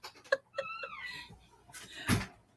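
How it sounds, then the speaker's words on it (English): Hungry cats meow several times in quick succession, close and fairly loud with tonal, rising cries, followed by a rustle and a thump near the end. "They just sound cute."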